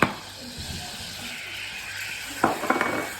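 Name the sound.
stirring flour into melted butter in a saucepan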